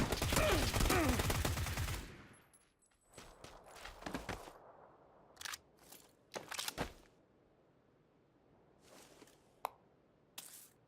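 Gunfire in a battle royale shooter fight: a dense burst of shots at the start, then scattered single shots and short volleys with quiet gaps between them.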